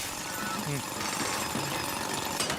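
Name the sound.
robot drilling in Splatoon Raiders video game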